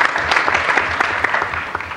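A crowd applauds a team at the AusCERT 2014 speed debate: brisk, continuous clapping with scattered louder claps, close and full.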